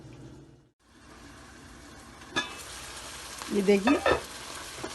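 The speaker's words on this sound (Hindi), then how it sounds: "अभी हमने इसकी तेज आंच कर दी और ये भून रही है।" Bottle gourd sabzi sizzles in a pan over high heat, a soft steady frying hiss close by, with a brief clatter and a few voiced words toward the end.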